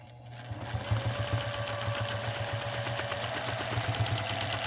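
A Juki TL-2010Q sewing machine runs steadily while free motion quilting, its needle producing a rapid, even mechanical hum with a fast repeating clatter, close and continuous throughout.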